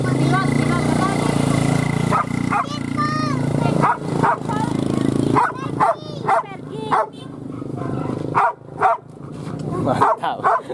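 Hunting dogs bark and yip in repeated bursts during a wild boar hunt at Bukik Lumuik, Solok, West Sumatra, with people talking throughout amid outdoor background noise.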